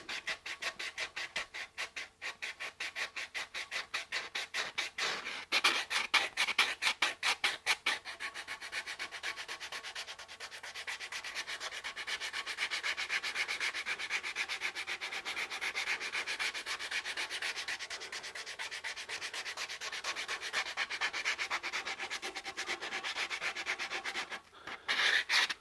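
A guitar body is sanded for finishing, the rasping strokes fast and choppy at first, then settling into a steady, continuous loud scrub that runs on alone until a few quick strokes at the end.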